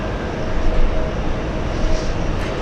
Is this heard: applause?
no